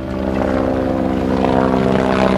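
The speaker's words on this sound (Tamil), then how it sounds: "திடீர்னு ஹெலிகாப்டர் கீழே வருது சார்" A helicopter coming down to land gives a loud, close, steady rotor and engine drone that swells slightly as it nears, with no voices.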